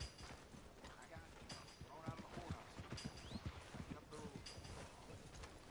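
Horse hooves clip-clop at a steady trot in the Red Dead Redemption 2 game, close and continuous, with game voices and background sounds layered over them.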